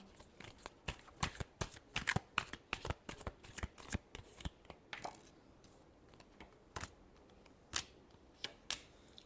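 Tarot cards being shuffled by hand, a run of crisp riffling and slapping bursts in quick uneven rhythm, close and fairly quiet with no talk.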